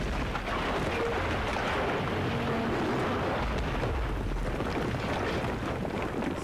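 A building collapses in the Battlefield 3 video game as a loud, sustained rumbling roar that fills the whole clip, with crumbling debris and low booming mixed through the dense wash.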